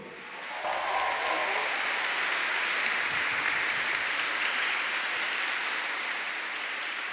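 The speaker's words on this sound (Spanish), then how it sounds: "déle un grito de júbilo al Señor y un aplauso fuerte" Strong, sustained applause fills a church concert as the congregation claps together, a steady dense wash of hand claps from start to finish without a break.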